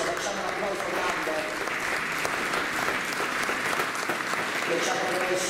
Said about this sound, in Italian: facciamo un applauso grande